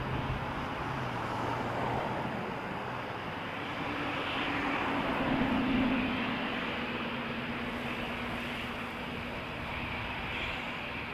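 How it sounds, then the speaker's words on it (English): An airliner takes off at Toronto Pearson airport, heard as a steady, distant jet engine roar that swells slightly midway and holds constant with no talking. "Thought I missed a takeoff for a second."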